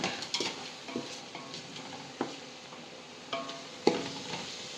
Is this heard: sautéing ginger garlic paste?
yes